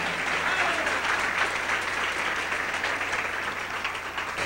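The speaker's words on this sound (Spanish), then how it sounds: "Dele un aplauso al Rey." A church congregation applauds in praise during a worship service, a dense, steady wash of many hands clapping that holds loud and even throughout without pause.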